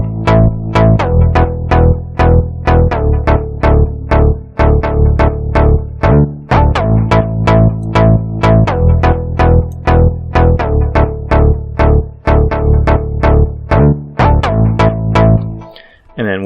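Synth chords layered over a gliding bass line from the track, played alone with no drums, with steady repeated plucky notes and sliding pitch shifts throughout, loud and close.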